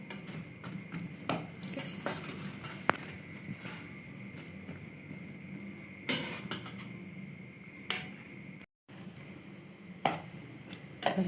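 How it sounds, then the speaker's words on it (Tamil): Jangiri sweets soaking in sugar syrup are stirred with a utensil, giving scattered light clinks and taps against a vessel, fairly quiet and close, with a brief dropout of sound near the end. "நல்லா ஒரு 2 நிமிஷம் நல்லா கிளறி விட்டுடலாம்."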